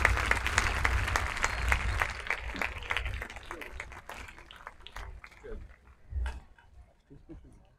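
Audience at a school sports closing ceremony applauds loudly at first, the clapping thinning into scattered claps as a voice and crowd murmur come through toward the end.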